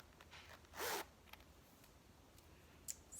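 One quick zip on a small Louis Vuitton Neverfull pouch, a short close rasp followed by faint clicks of the metal pull and light handling in a quiet room.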